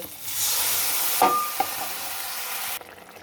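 Water goes into potatoes frying in a pan, setting off a loud hissing sizzle with a couple of clinks from a utensil before the sound cuts away sharply near the end.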